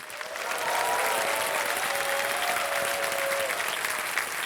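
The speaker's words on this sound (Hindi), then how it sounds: "एक बार जोरदार तालियां फिर से हो जाए इनके लिए।" A studio audience on the KBC quiz show gives a sustained, even round of applause, dense clapping holding steady for several seconds with no talking over it.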